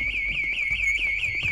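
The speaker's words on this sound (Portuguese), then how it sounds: "acionou o alarme agora!" A car alarm in the GTA 5 video game wails in a rapid, repeating warble, loud and continuous with faint background noise beneath and no talking.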